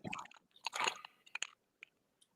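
Crunchy chewing right against a microphone: loud, close bites and crackly crunches in an uneven burst, fading to a few scattered small crunches.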